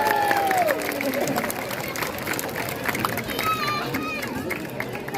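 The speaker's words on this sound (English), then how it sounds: "Give him a cheer" Crowd at a sea lion show in a safari park claps and cheers, a lively wash of applause with scattered shouts, while a presenter's voice briefly rises above it at the start.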